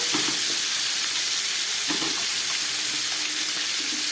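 Vegetables frying in hot oil seasoned with black cumin (kalo jeera): pointed gourd, potato and papaya pieces sizzle steadily and close, with a few soft stirring scrapes through the frying noise.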